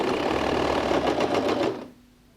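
A sewing machine runs a fast, steady stitching burr along a half-inch seam joining bias binding, close up, then stops abruptly, leaving quiet room tone.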